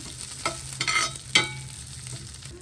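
Curry leaves crackle and sizzle in hot oil while tempering for coconut sambal, with steady frying hiss broken by a few scraping stirs of a spoon in the pan.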